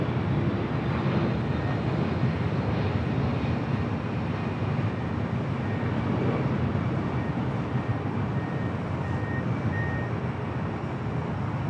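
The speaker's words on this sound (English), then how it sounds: "Next arrival is a Delta 767-300ER." A Delta Boeing 767-300ER landing at LAX, its engines a steady, loud broadband roar that holds at an even level with no voices.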